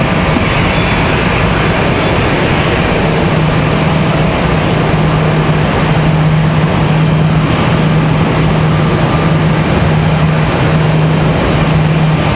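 A JetBlue jet airliner roars loud and close for the whole stretch at Raleigh-Durham International Airport, a dense, even rumble with a faint steady hum underneath and no voices.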